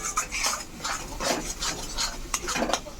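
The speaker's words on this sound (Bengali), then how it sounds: "এর সঙ্গে এখন আমি নেড়ে নেব, নাড়তে হবে অনেক টাইম।" Spice mixture for a katla fish head curry is stirred in a pan with a spoon, giving steady scraping and rubbing strokes in a regular rhythm, close and fairly loud, with no voices.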